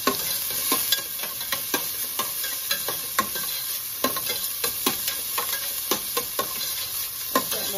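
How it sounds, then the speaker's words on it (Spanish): Onion sizzles in a pot as the first step of a chicken soup, a steady close frying hiss broken by regular scraping stirs of a utensil, with no talk. "le ponemos la cebolla primero, como por un minuto."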